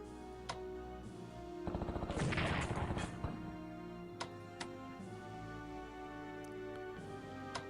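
Artillery barrage in the WWII strategy game Strategic Command, heard as a faint flurry of crackling impacts and booms over a low background hum, with a few sharp isolated clicks.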